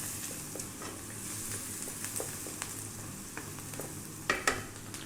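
Garlic and white onion sizzle softly in a pan for an Ethiopian split pea stew. The frying hiss is steady and low, with a few faint stirring taps and two louder scrapes near the end. No one speaks.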